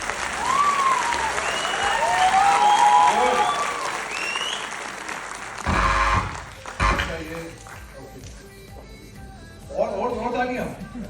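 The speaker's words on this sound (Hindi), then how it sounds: "जोरदार तालियां शुभम के लिए" Loud applause from an audience at a business seminar, a dense sustained roar of clapping that swells then breaks off, followed by quieter scattered claps and a host's voice speaking over the room.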